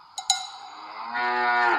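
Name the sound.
cow mooing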